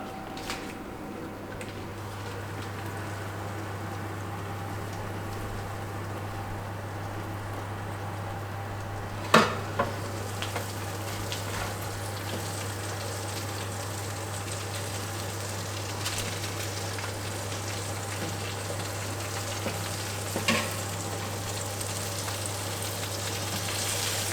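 Whole lamb rack on a barbecue grill, a steady soft sizzle with a low constant hum beneath and one sharp knock as the meat is turned over, then quieter crackling.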